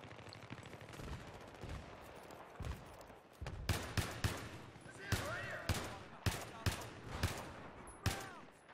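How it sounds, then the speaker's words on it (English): Bursts of gunfire in the first-person shooter Battlefield 3, sharp cracks and rapid automatic volleys coming in irregular clusters, some close and loud, with a player speaking between the shots. "Who's shooting me?"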